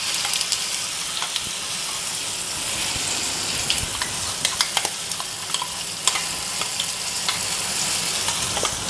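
Sizzling and bubbling as a tamarind chutney mixture is poured into hot oil with popped mustard seeds, a steady close frying hiss with small crackles throughout, no voices.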